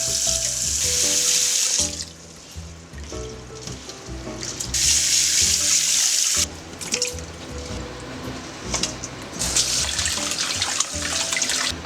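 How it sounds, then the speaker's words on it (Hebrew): Rice is rinsed for Uzbek plov under a running kitchen sink tap, steady loud splashing water broken by pauses and sloshing as the grains are swirled and drained, with no speech. "שוטפים עד שהמים יהפכו להיות שקופים לגמרי."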